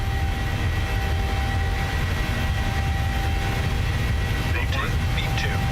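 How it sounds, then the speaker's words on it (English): A Boeing 737 in Microsoft Flight Simulator 2020 rolls down the runway at takeoff power, producing a continuous loud engine roar and rumble that stays level throughout, with faint chirpy tones near the end. "All right, takeoff power. Go ahead and set takeoff power."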